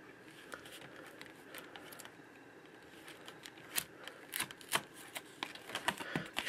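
A knife slicing open an Amiibo card booster pack, with soft crinkling plastic and a run of sharp small scratches and snips that grow denser and louder near the end.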